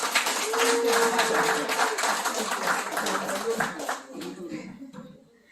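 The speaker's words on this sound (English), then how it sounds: "Give Isosa a round of applause." An audience at an Edo Language Day event in Toronto claps for a young participant. The applause is loud and steady at first, with voices and cheering mixed in, and it fades out over the last second.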